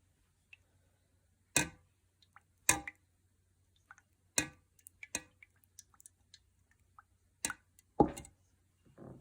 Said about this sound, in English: just going to give that a good stir around.